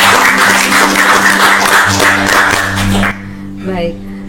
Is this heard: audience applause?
yes